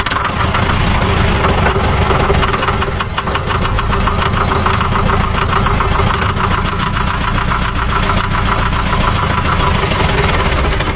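An old diesel car engine runs steadily and loudly up close, with a rough, knocking idle and a rapid mechanical clatter throughout, with no pauses.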